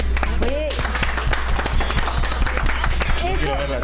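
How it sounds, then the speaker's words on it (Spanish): Audience applause at a live DVD presentation event, dense clapping that blends with crowd noise and overlapping voices across the whole stretch. "¡Oh! ¡Dios mío, un aplauso!"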